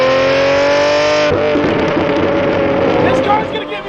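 Lamborghini Murcielago V12 engine revving loud and close: a sustained high, tuneful wail that climbs toward redline, then snaps into a raspier, crackling roar as the revs drop.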